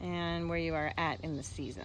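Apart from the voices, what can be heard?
None of the usual background noises is heard.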